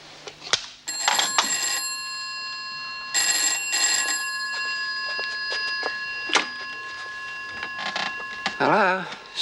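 An old-style telephone bell rings in repeated bursts in a prison setting, loud and close, with brief voices and a pause between rings.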